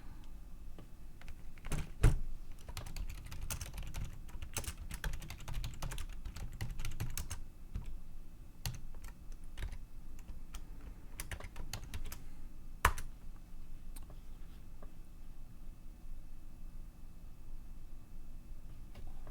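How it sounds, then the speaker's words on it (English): Typing on a computer keyboard, steady clusters of close, crisp key clicks with brief pauses, heaviest early and thinning out later over a low background hum. "I'm gonna type in here."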